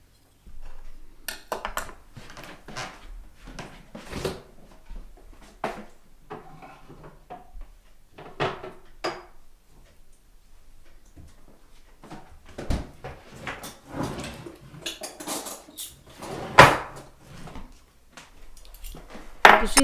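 Several sharp wooden knocks and clatters of a cupboard and drawer being opened and shut to fetch a spoon, with faint rattling of cutlery, close by in a quiet kitchen of a remote mountain home.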